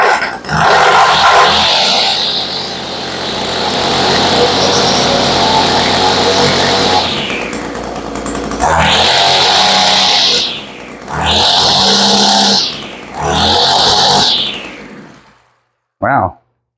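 An Echo weed eater's small two-stroke engine starts and runs loud and close, revving high, dropping away, then surging again in several bursts before cutting off.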